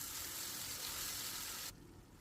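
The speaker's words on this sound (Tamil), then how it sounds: "எல்லாம் போட்டு நல்லா எண்ணெயில் வதக்கி விட்டுடுங்க" Spices, garlic, dried red chillies, ground chilli paste and curry leaves sauté in hot oil for palak onion curry, a steady close hiss and sizzle that drops abruptly to a quieter crackle near the end, with no talking.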